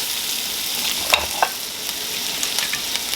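Mushrooms sizzle steadily in a pan with butter and soy sauce, a constant close frying hiss broken by a couple of sharp clacks from stirring.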